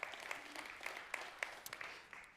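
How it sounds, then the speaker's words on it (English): Sparse, light clapping from a church audience, faint and distant, a handful of separate soft claps at an uneven pace with no voices over them. "that's like a golf tournament clap"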